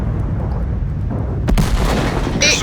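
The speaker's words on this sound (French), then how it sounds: "Et là je me fais tuer par une artillerie" An artillery shell bursting on a Churchill III tank in World of Tanks, a sudden loud boom cutting through low engine rumble, followed by a ringing crackle.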